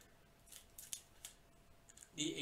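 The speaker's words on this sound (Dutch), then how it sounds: "Ik haal gelijk de tape af van de oranje afdekking." Tape is peeled in short crackly bursts off the orange cover of an Ortur Laser Master 3 laser engraver, quiet close-up rips ending with a louder rustle.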